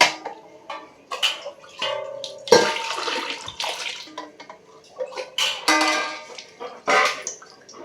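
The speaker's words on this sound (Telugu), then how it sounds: "మూడు గ్లాసులు వాటర్ పోసుకోవాలి" Water pours and splashes into a vessel in several uneven bursts, close by, with clinks and knocks between pours.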